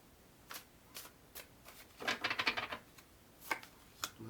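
Tarot cards are shuffled by hand in soft, scattered riffles and taps, with a denser flurry in the middle, quiet and close with no talking.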